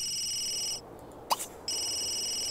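A phone ringing in The Sims 3, a repeated electronic ring tone with a short pause and a brief blip in the gap, clear and close with no talk.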